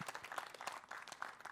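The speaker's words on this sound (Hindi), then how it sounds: "एक बार जोरदार तालियां for Ritu यार" Applause for Ritu at an MMA talent event in India, a crowd clapping in a fairly faint, continuous patter for under two seconds.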